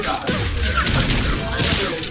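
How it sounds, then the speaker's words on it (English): Gunshot sound effects fire in a Mortal Kombat fighting-game tournament match, a few sharp bursts over a steady, busy game background with faint commentary. "Gunshots."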